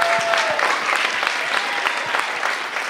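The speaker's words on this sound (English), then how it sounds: "let's give our speakers a round of applause for tonight." Applause from an evening entrepreneur speaker series audience for its speakers, a brief, steady burst of many hands clapping at moderate loudness with no break.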